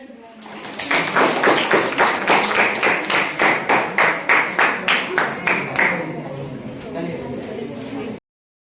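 Rhythmic hand clapping keeps a steady beat of about a dozen evenly spaced claps, loud and close, then stops abruptly and leaves a brief softer tail.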